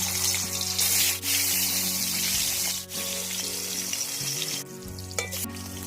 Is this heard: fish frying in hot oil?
yes